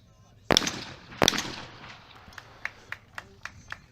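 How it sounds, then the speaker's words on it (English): Shotgun shots at skeet targets in a men's final at a world shooting championship: two loud, sharp blasts about 0.7 seconds apart, followed by a series of fainter, evenly spaced cracks from more distant shooting. "he'll reset and shoot the pair all over again"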